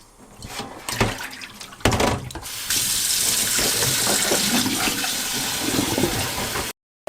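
Garlic scapes being rinsed in water: rustling and splashing of the stalks at first, then a strong steady stream of running tap water gushing into a basin for several seconds before cutting off, close and loud.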